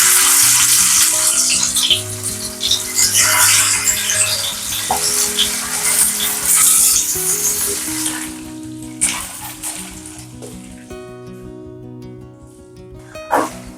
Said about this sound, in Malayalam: നമുക്ക് എണ്ണ നല്ലോണം ചൂടായി കഴിയുമ്പോൾ നമ്മുടെ മത്തി ചേർത്ത് കൊടുക്കാം.